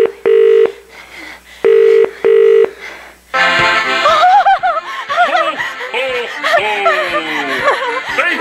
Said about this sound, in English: You know Saint Nicholas's phone number?